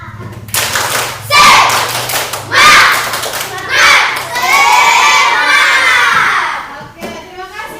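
Classroom children loudly shouting and clapping in rhythmic bursts during a 'tepuk semangat' cheer, several energetic waves of chanting and claps, close and boisterous, with a teacher's voice briefly between.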